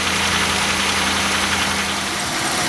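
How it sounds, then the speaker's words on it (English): A Chevy Venture van engine idles steadily nearby, a low, even rumble with slight vibration and no voices. "car's been idling a couple of minutes"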